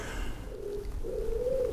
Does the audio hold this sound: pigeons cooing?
yes